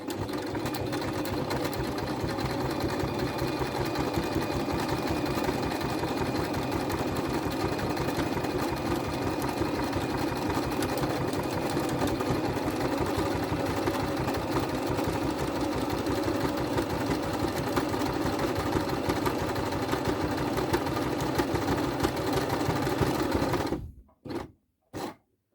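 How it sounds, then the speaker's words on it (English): A sewing machine stitches a buttonhole in a fast, steady mechanical chatter that runs unbroken for most of the stretch, then stops with a couple of short bursts. "all I need to do is put my foot on the pedal and sew the buttonhole"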